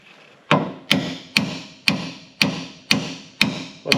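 Slow, steady hammering on a bushing, about eight sharp, evenly spaced metallic blows with short ringing decays, close and distinct with no talk.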